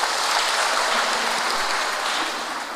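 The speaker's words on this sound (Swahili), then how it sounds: "Situwapigie watoto wetu makofi" A church congregation applauds children at a Kikuyu service, a dense, loud wash of clapping filling the room and easing off slightly at the end, with no voices over it.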